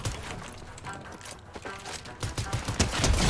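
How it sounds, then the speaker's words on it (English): Gunfire in the Fortnite video game: bursts of rapid shots, sparse at first, then denser and louder toward the end. "I hear shooting over here, bro."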